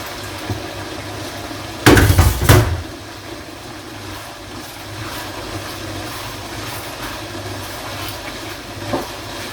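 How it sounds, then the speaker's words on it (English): A chopped onion hits a hot pan while bacon and chicken spaghetti cooks, setting off a sudden loud sizzle that flares for about a second, then fades into a steady low hiss. "so my onion is going in now"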